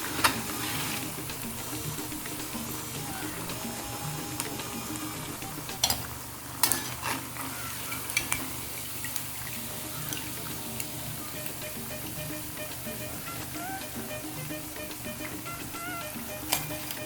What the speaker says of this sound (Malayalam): തിളച്ച എണ്ണയിൽ നല്ല ക്രിസ്പി വട റെഡി ആയിട്ടുണ്ട്.